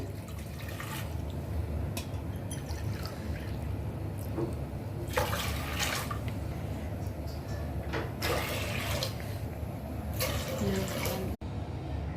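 Steady water pours and splashes continuously into a metal pressure cooker holding rice, a soft running rush lasting several seconds with occasional small clinks.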